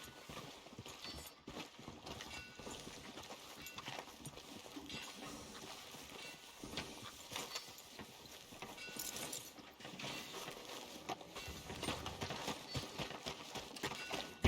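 Horse hooves clip-clop steadily at a walk in a video game as the mount approaches a hitching post on a town street, a moderate continuous rhythm set among ambient game sounds.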